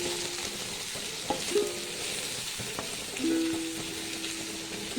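Okra curry cooking in a pan as chilli powder, coriander powder and turmeric are stirred in, giving a steady low sizzle with a few soft scrapes and clinks from the spoon.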